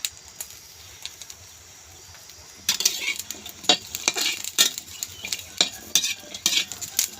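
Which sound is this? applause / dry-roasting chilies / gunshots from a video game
dry-roasting chilies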